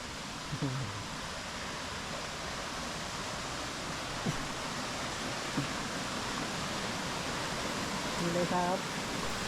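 Wa Phu Kaeo waterfall, fed by water from Khao Yai in Korat, gives a steady, even rush of flowing water that stays constant throughout, with a few faint brief voice sounds over it.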